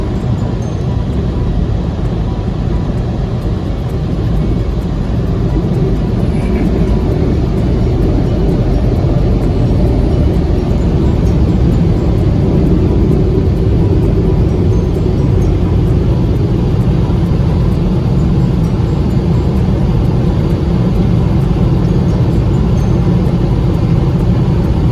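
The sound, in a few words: heated dryer at touchless car wash blowing car dry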